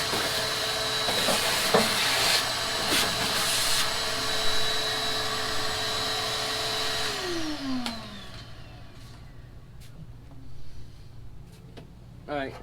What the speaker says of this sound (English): So I'm going to go ahead and do that and then just continue vacuuming.